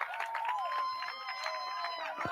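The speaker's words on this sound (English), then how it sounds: "Crowd rallying behind Rogers on that base hit." Crowd cheering and clapping at a men's college baseball game between San Francisco State and Chico State after a base hit, a steady wash of voices under a sustained whistle, continuous and fairly distant.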